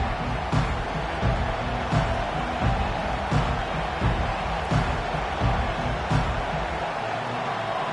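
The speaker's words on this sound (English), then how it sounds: "This crowd trying to show them what it's going to be like all day in this house." Stadium crowd noise in an EA Sports College Football dynasty game with a conference championship at stake: a dense, continuous roar with rhythmic thumps pulsing about every second and a half, as if fans are stomping or clapping in unison.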